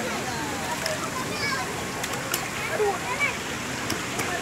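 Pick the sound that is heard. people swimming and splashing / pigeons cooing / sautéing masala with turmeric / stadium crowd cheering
people swimming and splashing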